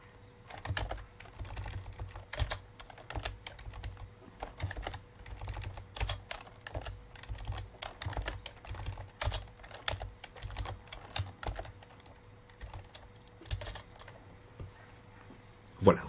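Computer keyboard keys, including the arrow keys, click in quick irregular bursts while statistics are calculated in spreadsheet software, with faint intermittent speech nearby.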